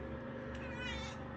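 A cat in a bathroom gives a drawn-out, close, vocal meow that wavers in pitch like chatter, heard alone without talk.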